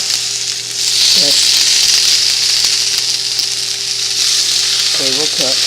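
Continuous bright sizzle of asparagus frying in a pan indoors, steady and close, with a couple of brief clinks or scrapes partway through.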